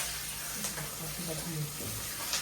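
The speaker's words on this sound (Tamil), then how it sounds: "நல்லா வதக்கி விட்டுறேன்" Onions, green chillies and curry leaves sautéing in a hot pan give a soft, steady sizzle and hiss close by, with faint stirring under quiet talk.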